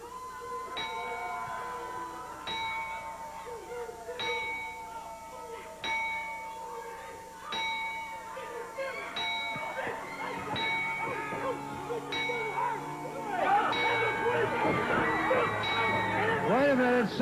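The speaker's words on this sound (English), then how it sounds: "the traditional ringing of the bell" A wrestling ring bell rings out in a steady series of evenly spaced strikes, about eight in all, over a crowd murmur that swells louder toward the end.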